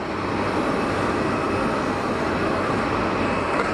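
EasyJet Airbus A320ceo with CFM engines on its takeoff roll at Geneva Airport, a steady, loud broadband jet roar with a low drone holding constant throughout, no voices.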